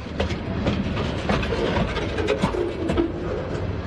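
A Norfolk Southern freight train with hopper cars rolls steadily past at close range, its wheels clicking rhythmically over rail joints amid a continuous rumble, with no voices.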